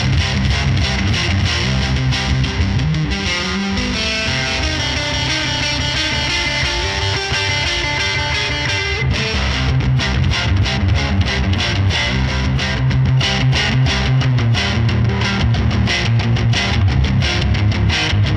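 Electric guitar through a Full Moon Distortion pedal, heavily distorted chords and riffs, loud and continuous, with a brief shift in tone midway before the crunchy playing resumes.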